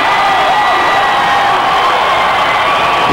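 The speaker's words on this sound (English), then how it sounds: "51-47, and the crowd has come alive." A college basketball arena crowd at Bradley in 1992, Illinois State versus the Braves, keeps up a steady loud roar of cheering throughout after a three-pointer.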